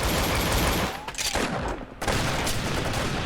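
Gunfire in the Roblox video game: a dense, loud burst of rapid shots, a short break, then more sustained firing, with no voices.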